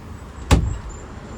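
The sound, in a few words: boat cabin door opening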